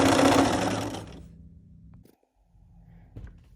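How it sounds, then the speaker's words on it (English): Sewing machine stitching a 1/4 inch seam that joins colored fabric to a door banner panel: a loud, dense run of stitching for about a second, then stopping, followed by quiet low handling noises and a small knock. "Stitch a 1/4 inch seam along the edge, combining your colored fabric to your panel."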